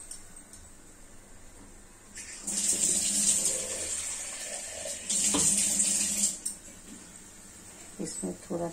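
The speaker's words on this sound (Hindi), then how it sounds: "इसमें थोड़ा सा और रस्सा बनाना है तो मैं थोड़ा और पानी डाल दी हूँ" Water is poured from a container into a pan of fish curry spiced with turmeric, coriander, mustard, garlic, black pepper and cumin, a splashing trickle lasting several seconds in two bursts, close and clear in a quiet kitchen.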